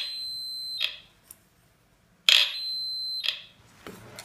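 A Delta Pulse 2S metal detector in click mode sounds its copper signal, two sharp high-pitched electronic beeps about a second and a half apart, each with a short burst of noise, close and clear without talk.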